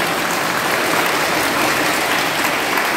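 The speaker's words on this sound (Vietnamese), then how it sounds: "Nếu mà hay thì con xin cộng đoàn cho con một tràng pháo tay để chúc mừng chú rể đi" A church congregation at a wedding mass bursts into sustained, dense applause for the groom, loud and even across the whole stretch with no voices over it.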